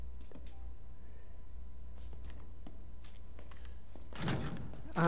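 A door in Resident Evil 7 thuds shut and then opens, a few faint knocks and taps over a quiet low hum before a louder rush near the end.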